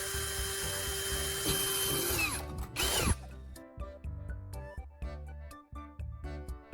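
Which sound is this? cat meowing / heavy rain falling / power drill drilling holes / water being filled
power drill drilling holes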